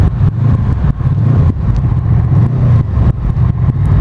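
A Honda VFR800's loud, throaty exhaust rumbles continuously up close, pulsing with gear changes and throttle blips while riding.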